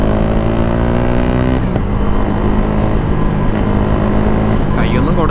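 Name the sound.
KTM 390 motorcycle engine revving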